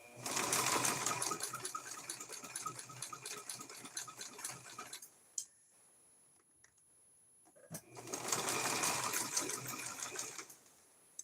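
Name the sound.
sewing machine zigzag stitching over string on coasters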